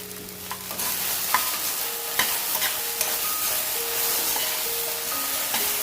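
Okra (bhindi) fries in a pan with salt and a little sugar, a steady loud sizzle broken by a few sharp clicks of stirring.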